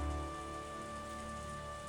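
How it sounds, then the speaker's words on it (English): Steady, quiet patter of rain drumming on a car roof in the Higurashi video game, a soft continuous wash with no voices. "I heard the sound of raindrops hitting the roof of the car."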